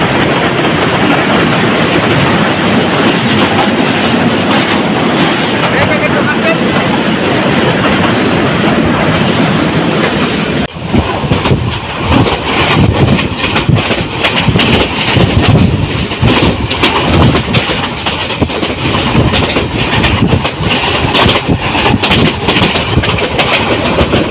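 Small local Surma Mail train crossing the Brahmaputra rail bridge in Bangladesh, a loud steady roar of wheels and carriages with a rapid clatter that grows sharper partway through.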